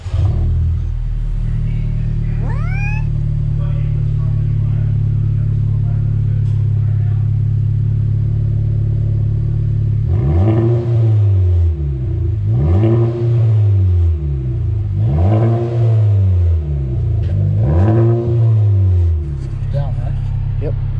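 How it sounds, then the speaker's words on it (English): A 2018 Honda Civic Type R with a 3-inch aftermarket exhaust idles steadily, then revs five times in a regular rhythm, each rise swelling loud and close before dropping back to a deep idle. "There's an audio sound clip of the exhaust install on the 2018 Civic Type R."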